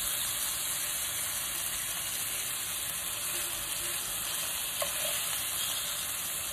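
Food frying in a pan gives a steady, even sizzle that hisses throughout, close and moderately loud, with a faint tap or two near the end and no voices.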